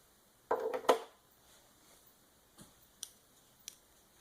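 Scissors snip through crochet yarn for a Peppa Pig appliqué, a close cluster of sharp blade snips followed by a few faint scattered clicks, quiet otherwise.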